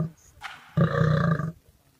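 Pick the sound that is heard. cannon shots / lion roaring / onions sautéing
lion roaring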